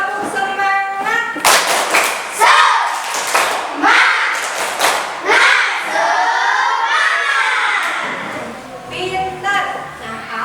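A class of schoolchildren performing a rhythmic group clap in a classroom, bursts of sharp clapping patterns mixed with shouted chanting voices and a teacher speaking.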